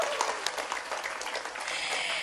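A crowd claps in a steady, dense round of applause at a post-tarawih Quran study gathering, filling the whole moment without voices on top.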